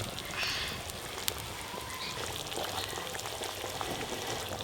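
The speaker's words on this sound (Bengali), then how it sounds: "ঝোল একদম টকবকে হয়ে ফুটে গেছে" A broth of rohu fish and cauliflower curry boils in a pot, a steady close bubbling and sizzling hiss with soft pops throughout, no voices.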